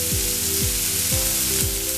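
A steady close sizzle of onion and jackfruit seeds frying in a pan, with soft rhythmic stirring strokes about every half second and no voices.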